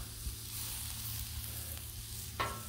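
Eggplant, mushrooms and other vegetables sizzle with butter on a hot Blackstone griddle, a soft steady frying hiss with a couple of faint scraping clinks, no talk.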